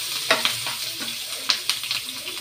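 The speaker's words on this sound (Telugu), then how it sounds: "కాస్త కొత్తిమీర, తగినంత పసుపు, వేయించుకోవాలండి." Fresh coriander and turmeric frying in hot oil for a coconut curry, a bright close sizzle punctuated by quick stirring scrapes and clinks.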